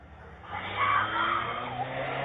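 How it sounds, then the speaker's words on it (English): A white car speeds down a residential street with its tires skidding, a loud, sustained screech rising and holding for a couple of seconds over the low rumble of the engine. "The screaming is followed by a white vehicle speeding down the street with the trunk open"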